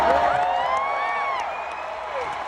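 A rodeo crowd at a professional bull riding event in London cheers loudly, with whoops and high shouted calls rising over a dense roar of voices.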